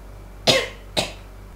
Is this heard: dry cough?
yes